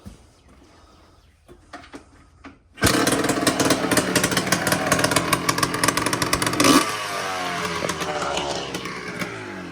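Yamaha Blaster ATV engine, after carburetor work, cranks with a few faint attempts, then fires abruptly into loud, high-pitched revving that holds for several seconds and drops back to a rough idle up close.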